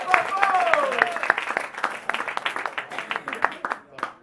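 Audience applause at a French slam poetry show, a dense burst of clapping that thins into scattered claps, with voices talking over it near the start.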